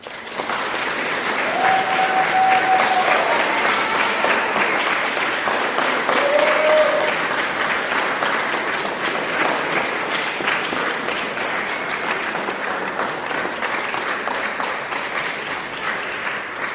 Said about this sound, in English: And they deserve a round of applause.